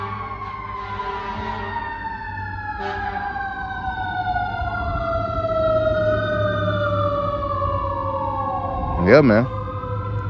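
An emergency vehicle siren wails outside, its rising and falling sweep passing at moderate distance for about ten seconds, with a short burst of talk near the end.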